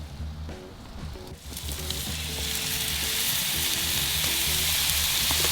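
Tomatoes tipped into a hot pan set off a bright, loud sizzle that swells and holds steady, with a low background hum underneath and no talking.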